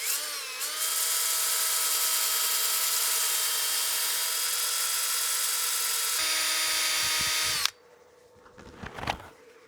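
A walnut platter being sanded on a wood lathe at about 500 rpm with 220-grit paper: a loud, steady whirring motor drone with a bright hissy edge that holds for several seconds, then cuts off abruptly, leaving faint quiet handling noises.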